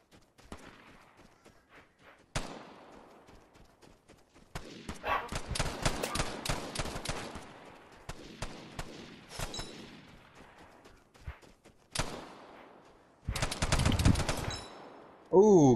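Gunfire in the online shooter game Vigor: repeated automatic bursts and single shots in uneven clusters, some loud and close, others fainter, separated by short quiet gaps.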